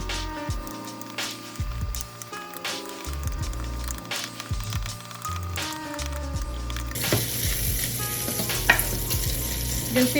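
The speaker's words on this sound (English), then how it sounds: "Now after I fry up this bacon" Bacon frying in a pan starts as a faint crackle under background music, then swells after several seconds into a loud, dense, close sizzle with scattered pops.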